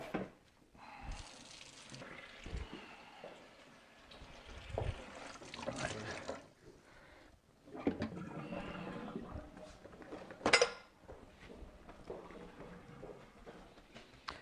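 Running tap water splashes over salmon as the salt and sugar cure is rinsed off in a sink, a faint, uneven trickle and gush with intermittent bursts and brief pauses.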